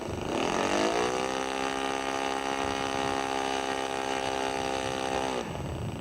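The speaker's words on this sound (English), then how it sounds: "I'm going to rev it up." Engine revved up from idle to a steady high whine that holds for several seconds before dropping back, loud and continuous with no talking.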